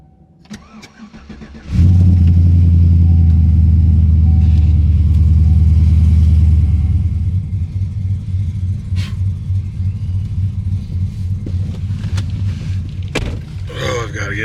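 A truck engine cranks and catches on a snowy winter campsite, settling from a loud start into a steady, rumbling warm-up idle up close.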